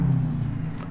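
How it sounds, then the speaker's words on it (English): A fully built Mitsubishi Evo 8 engine running, with a suspected turbo fault producing a whine: a steady, loud, low droning hum that holds without pause across the whole short moment. "All we really need to do is figure out and diagnose that noise, which I'm fairly confident it's the turbo"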